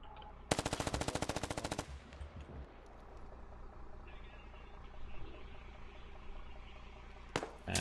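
A loud burst of rapid automatic gunfire in the SquadOps video game, about a second and a half of close, evenly spaced shots, followed by quieter battlefield ambience and another short gunfire burst at the very end.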